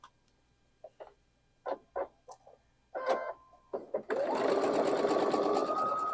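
A sewing machine starts up and runs steadily in a fast continuous whir, close and loud, after a few clicks and handling noises, stitching a quarter-inch seam on quilt block fabric.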